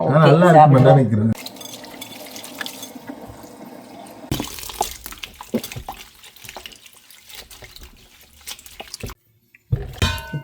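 Water drains from cooked pumpkin leaves set in a pot or strainer, making a soft continuous trickle and splashing. A voice speaks at the start and intermittently over it.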